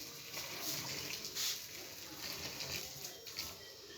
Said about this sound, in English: I'm going to pour hot water on it now and see how it goes.